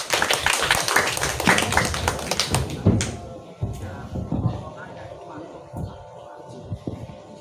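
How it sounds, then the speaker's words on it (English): Audience applause at a grand final competition as participant number 14 is welcomed, dense clapping in the opening three seconds then thinning to scattered claps and room noise. "Give applause, please."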